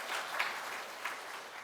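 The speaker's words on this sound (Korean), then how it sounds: "박수로 환영하겠습니다" Brief applause from a church congregation during a Sunday worship service as newly visiting families stand to be welcomed, a short, moderately loud burst of hand claps filling the room.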